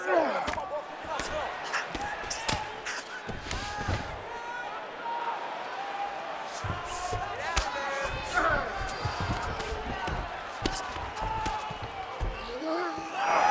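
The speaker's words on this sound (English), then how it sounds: "they can take in the applause because they deserve it after that grappling exchange" Arena crowd noise in the UFC 5 simulation of Alexandre Pantoja vs Kai Asakura, a broad murmuring roar with scattered thuds, sitting under a commentator talking throughout.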